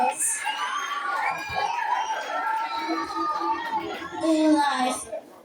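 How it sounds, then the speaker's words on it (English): An audience at a school reading competition's grand finale claps and cheers, with children shouting and excited chatter rising and falling across the clip, loudest near the end. "Let's give a round of applause."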